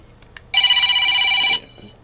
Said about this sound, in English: I got Ellison on the phone